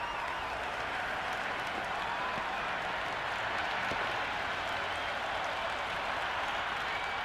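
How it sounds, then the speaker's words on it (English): A packed crowd at a Big Bash 2025 cricket match roars and applauds after a big shot clears the boundary, a steady, dense wash of noise that continues for several seconds. "the crowd have joined the party. It's pretty noisy at the ground"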